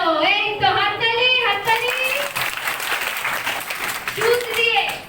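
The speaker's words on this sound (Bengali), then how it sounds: "তো হাততালি।" Schoolgirls at a girls' school applaud together in a sustained round of clapping, mixed with girls' voices calling out over and around it.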